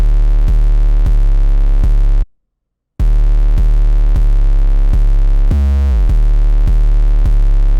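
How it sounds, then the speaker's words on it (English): A loud, deep 808 bass throbs through steady sustained notes, dropping out briefly before returning, with one note sliding in pitch. "we have the 808 pattern, which again is just following our root notes"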